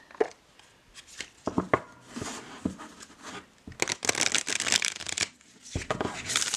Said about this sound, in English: I put the deck away before demonstrating the shuffle